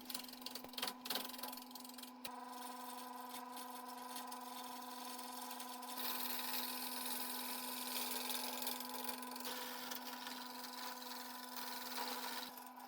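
A wood lathe turns a piece of wood while a tool forms a tenon on it. A steady motor hum runs under faint scraping and rubbing, with a few sharper scuffs near the start, and no one speaks.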